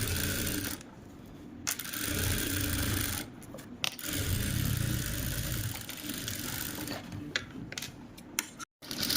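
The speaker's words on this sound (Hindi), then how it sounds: "फिर इसके एक पैर की बाहर की तरफ को सिलाई लगानी है।" A sewing machine runs steadily while stitching the outer side seam of one leg of a homemade kurti, a continuous mid-pitched whir with a few brief pauses and one sharp stop near the end, with no voices.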